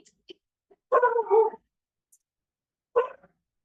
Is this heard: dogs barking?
yes